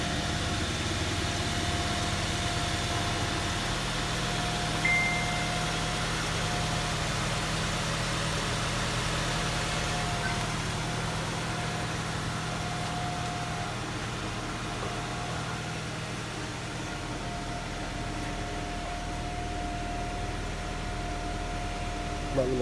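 A 1997 Honda CR-V engine idles smoothly and quietly, a steady low hum with faint mechanical whine holding constant for over twenty seconds, no voices.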